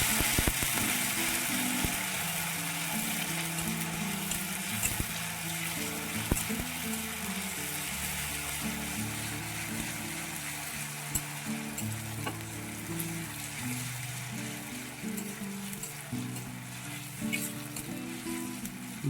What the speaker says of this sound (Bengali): ভালো করে নেড়ে চেড়ে নিতে হবে।